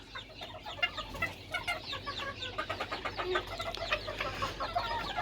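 A flock of young chickens and roosters clucks and chirps busily while feeding, a dense overlapping chatter of short calls at moderate distance, fairly quiet, with no voices over it.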